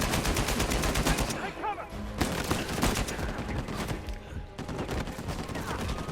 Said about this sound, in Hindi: वहाँ से कोई ऑटोमेटिक मशीन गन चला रहा है